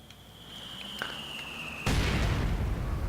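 Mortar fire in Company of Heroes 2 pounds a structure: a faint distant pop, then a sudden loud explosive boom that rumbles on, over a thin high whine.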